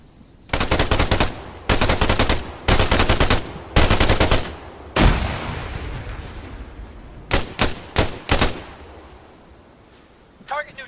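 Video game gunfire rips out in several loud, close automatic bursts separated by short pauses, with one big blast trailing off into echo and a few quick single shots near the end.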